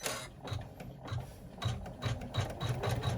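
An embroidery machine stitches a cross outline in the hoop for a coffin-shaped crossbody bag, giving a fast, even mechanical chatter of needle strokes close by and without pause.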